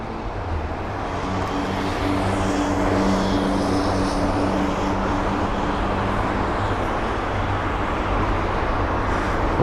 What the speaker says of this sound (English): Here's the Air Canada 787 on the ground now